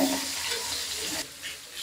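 Onions and chopped chili frying in oil in a pan while fish is being cooked, with a steady close sizzle that fades briefly near the end and has a few light scraping stirs.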